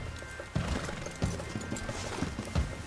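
A horse in the video game Red Dead Redemption 2 moves with rhythmic hoof thuds at an even pace over a noisy outdoor background.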